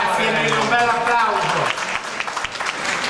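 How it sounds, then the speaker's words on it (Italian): At a comic art auction run by the Legnanesi, an auctioneer's voice gives way to a room applauding a winning bid, clapping rising to a lively, sustained patter. "Ha giudicato il signore, grazie, e un bel applauso."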